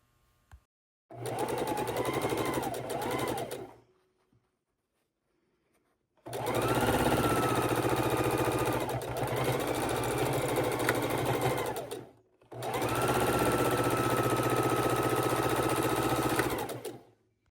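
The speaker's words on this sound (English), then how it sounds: "And then we're going to go to the sewing machine." A sewing machine stitching quilt half square triangles runs in three loud, close bursts of rapid mechanical whirring, separated by short silent pauses, with no talking.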